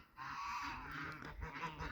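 Geese on a wintry farm give faint, nasal honks in a short burst, heard at a distance and alone over a quiet background.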